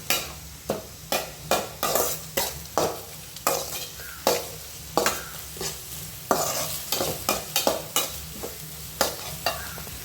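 Egg rice being stirred in a hot pan with two cracked eggs, a spatula scraping in steady repeated strokes over a soft continuous sizzle, close and fairly loud with no voices.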